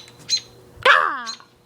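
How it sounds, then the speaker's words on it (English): An attacking bird gives a loud, harsh squawking call while swooping close overhead, a single descending screech following a brief chirp, heard near and clear outdoors. "He's swooping at me again. That bird doesn't have any respect."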